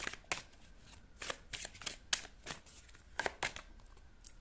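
A deck of tarot cards is shuffled up close, giving repeated papery riffles and soft slaps in an uneven rhythm, fairly quiet and with no speech.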